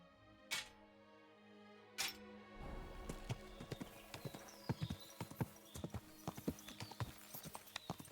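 Rhythmic clip-clop of horse hooves at a steady trot in the video game Kingdom Come: Deliverance 2, close and crisp, following two sharp clicks near the start.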